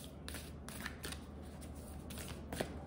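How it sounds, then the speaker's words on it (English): Rapid riffling of a deck of archetype cards, several quick bursts of flicking paper in close succession, close by with no talking. "Let me just shuffle these up."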